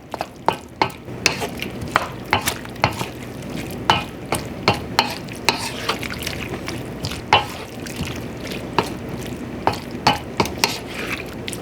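Pad Thai sauce sizzles in a hot pan while a utensil stirs and scrapes it, a string of sharp, irregular clacks against the metal over a steady low frying hiss.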